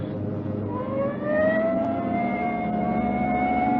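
A police car siren wails steadily, its rising tone sustained over the rumble of the moving car.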